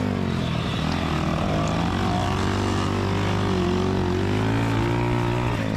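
Pit bike engine held at part throttle during a kids' dirt track race, a loud steady droning buzz with a constant pitch that runs unbroken throughout, close to the listener.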